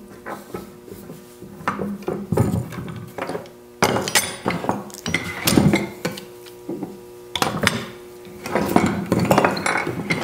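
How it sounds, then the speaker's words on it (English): Metal clamps being loosened and lifted off a glued wooden box scraper handle, giving close clinks, knocks and rubbing in uneven bursts with short pauses between them, moderately loud and with no voices. "I'm going to take the clamps off and show it to you."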